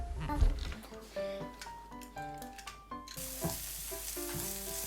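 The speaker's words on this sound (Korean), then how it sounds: "기름에 대파와 마늘을 넣고 볶다가" Green onion and garlic sizzle in hot oil as they are stir-fried, a steady frying hiss under occasional clinks of a utensil against the pan, with light music in the background.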